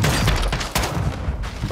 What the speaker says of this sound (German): bei mir ist auch was explodiert